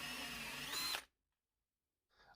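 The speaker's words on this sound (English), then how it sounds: "I just happen to have a hole saw that's nearly the same size as our plumbing fitting we're going to mount inside the can, so we'll just quickly drill a hole for that." A hole saw on a power drill cutting into a metal can held on a lump of wood, a loud whining grind for about a second that rises, then cuts off into silence before a faint noise returns.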